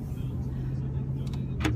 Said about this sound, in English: I drive Mark's truck because it's easier to maneuver